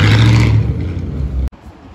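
A Lamborghini Sian on a London street gives a loud, close engine rev that swells and then fades over about a second and a half, ending in an abrupt cut to a quieter street background.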